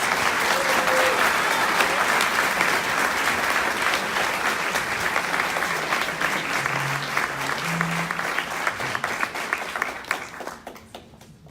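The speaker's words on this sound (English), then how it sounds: "please give a warm round of applause to the Alex Parker recipients" A room full of people applauds award recipients at a 2018 student awards ceremony, the clapping loud and steady for about ten seconds before thinning and fading out at the end.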